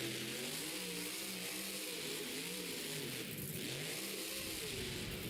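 A monster truck engine revs steadily and loudly during a wheelie at a Monster Jam arena event in Asturias. The roar holds with a wavering pitch and carries a dense crowd and arena wash beneath it.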